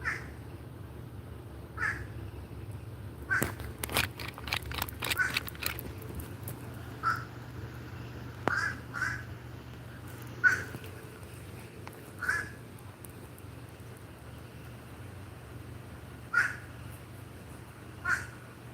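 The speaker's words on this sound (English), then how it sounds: "You guys gotta hear this bird." A crow caws outdoors repeatedly at irregular intervals, single harsh calls spread over a long quiet stretch, moderately distant, with some faint scattered clicks and no talking.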